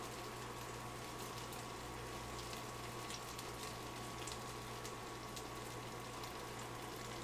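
Keto churros frying in hot oil in a small frying pan, a steady close sizzle and bubbling with faint crackles throughout, heard alone.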